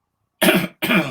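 Two short, close throat-clearing rasps in quick succession, separated by a brief pause, then silence.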